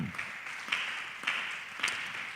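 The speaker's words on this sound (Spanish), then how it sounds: "¿Cuántos pueden darle ese aplauso al Señor?" A church congregation claps steadily in a dense wash of applause, with a few louder swells recurring through the sustained clapping.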